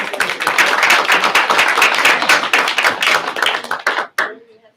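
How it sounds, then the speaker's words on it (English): Round of applause at a county commission session, a modest group clapping with distinct individual claps audible, fairly close and loud, then tapering off and stopping abruptly near the end. "Got a round of applause for that."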